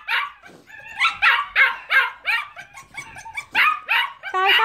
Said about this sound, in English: I've got a litter of puppies on the back porch fussing to come in